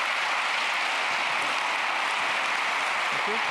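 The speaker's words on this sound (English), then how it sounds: "Let's give them a round of applause." Audience applause following an onstage conversation between a prime minister and an AI company figure, a steady hiss of clapping held at an even level throughout.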